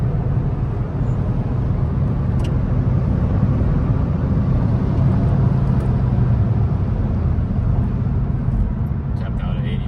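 A 2019 Chevy Cruze cruises at highway speed, with a steady low road and engine drone heard from inside the cabin and a voice talking over it throughout.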